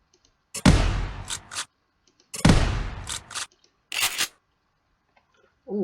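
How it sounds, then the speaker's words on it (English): A Roblox shotgun pump reload effect: two sharp mechanical racking bursts, each followed by quick clicks, then a last metallic snap. The sounds are close and crisp, with silence between them and no speech. "that could be our pump sound. So our reload sound"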